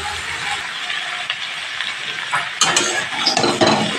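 Raw pumpkin and other vegetables are stirred in a pan over medium heat. A soft sizzle runs steadily underneath while the spatula scrapes and clatters, growing busier and louder toward the end.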